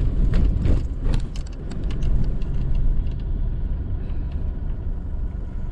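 Steady low road rumble and broadband wind and tyre noise fill the cabin of a car cruising along a highway at 80, loud and unbroken throughout.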